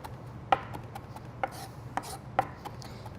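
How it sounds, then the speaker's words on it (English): A knife rough-chops garlic on a cutting board in a few sharp, irregular taps. The taps are close and distinct over a low background hum, with no voices. "I just want a rough chop on this"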